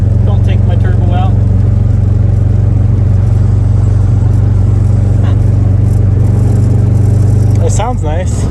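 A stock Subaru EJ25 engine making about 800 wheel horsepower drones loud and close inside the car, with engine rumble and revving under frequent talking throughout.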